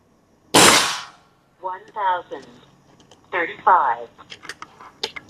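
A Black Ant airgun fires during a speed test, with one sharp, loud report near the start. Beeping chirps from a chronograph follow, then someone speaks.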